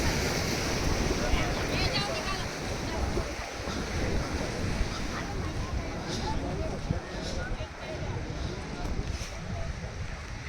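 Arabian Sea water washes in around the path to Haji Ali Dargah, a rough, rolling wash of surf mixed with gusty wind buffeting the microphone, steady throughout with no clear talk.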